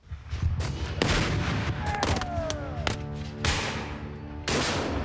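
Rifled artillery cannons fire in a Civil War-style demonstration, a string of sharp booming blasts that ring out one after another, loud and close, with rolling echoes between shots.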